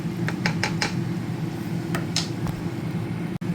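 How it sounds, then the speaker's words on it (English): A spoon clinks and scrapes against a pot while gravy granules are stirred into a beef stew that has cooked for about five hours: a quick run of four light metallic taps, a few more later, over a steady low kitchen hum. "I've just added a couple of teaspoons of gravy granules into this, so I'm just going to stir it in."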